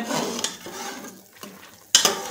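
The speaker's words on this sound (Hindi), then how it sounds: "थोड़ा सा सोया सॉस डालेंगे, इनको अच्छे तरीके से मिक्स कर लेंगे।" Spoon stirring soy sauce into chicken soup in a cooking pot, giving a few soft scrapes and clinks against the metal, with a sharper knock near the end, close and fairly quiet.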